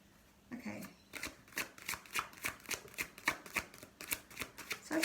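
Tarot cards being shuffled in a steady run of crisp riffling bursts, about a dozen evenly spaced slaps, close and fairly quiet with no talking.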